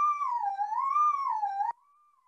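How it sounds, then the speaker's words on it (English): A steady sine wave tone from an EMS synthesizer oscillator slowly wavers up and down in pitch, then cuts off sharply, leaving a faint quiet hum trailing behind. "If we change this one back to a sine wave"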